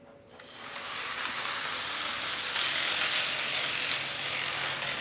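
A Great Northern model train locomotive pulling a caboose runs on its track, giving a steady mechanical whir with a light ratcheting, hissy texture. It starts after a brief quiet moment and stays fairly constant.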